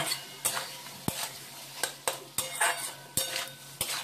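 Spices with turmeric and salt are stir-fried in a pan, with repeated metal spoon scrapes and clanks on the pan in a steady rhythm over a faint sizzle, close and without talking.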